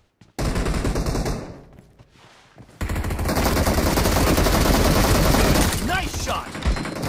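Loud, rapid automatic gunfire rattles in the BGMI battle royale video game, one sustained burst followed by another long continuous stream of shots with brief quieter gaps.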